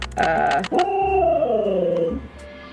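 A dog gives a drawn-out, wavering howl with a whimpering edge, starting with a short yelp and then sliding tones, loud and close, with no one talking over it.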